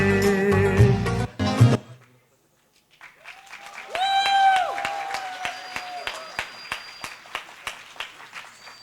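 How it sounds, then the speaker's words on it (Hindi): At a spiritual retreat, music stops after a dance performance. After a short pause, an audience claps in steady, scattered beats while a voice speaks over the applause. "जोरदार तालियां"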